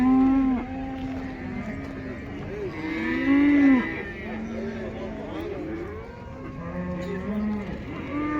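A two-year-old bull bellows repeatedly at the Taraz cattle market, several sustained, wavering moos from nearby with other cattle calling and people talking in the background.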